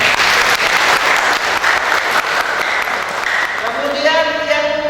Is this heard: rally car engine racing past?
no